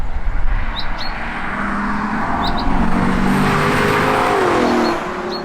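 A Lexus LFA engine revs steadily and loudly for several seconds, with harmonic engine tones rising and falling before easing off near the end; faint birdsong sits in the background.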